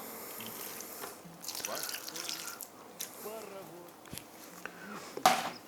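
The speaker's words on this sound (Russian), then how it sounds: "Вливаю уксус." Vinegar poured into a shashlik marinade of meat, a soft liquid trickle and splash with a few faint drips, close and quiet, with a voice speaking over it.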